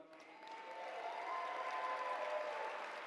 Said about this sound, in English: can we first just give a huge round of applause to our board member, Noah Wintrub.